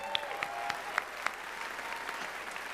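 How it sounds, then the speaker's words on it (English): Applause from a comedy roast audience at SF Sketchfest, a steady wash of clapping held at a moderate level, with a few sharper claps and a high whistle poking out near the start. "Let's hear a round of applause for Dana."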